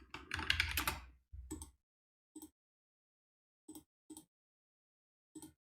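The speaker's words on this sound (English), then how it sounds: "I'm just going to write my name here." Typing on a computer keyboard, a quick burst of clustered keystrokes followed by several isolated single key taps spaced apart, close and quiet in a silent room.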